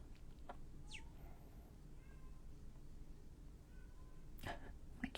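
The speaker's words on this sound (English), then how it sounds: "My kitty is crying." A house cat meows and cries behind a locked door, several short plaintive calls in the middle distance scattered over a steady low room hum, with a louder cry near the end.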